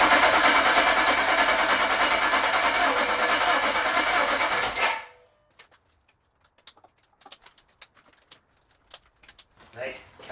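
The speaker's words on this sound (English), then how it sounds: "and then get the engine fired up" A BMW 335i's N54 engine cranks loudly on its starter motor for several seconds, then cuts out, leaving scattered faint clicks and light taps.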